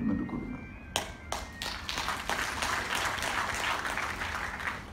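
An audience claps at a Tamil language festival event. A few sharp separate claps come first, then they build into dense, continuous applause from a crowd in a hall, moderately loud.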